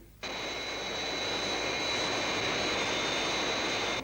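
A jet aircraft engine roars in a loud, steady blast with a high whine on top, starting abruptly and holding constant throughout.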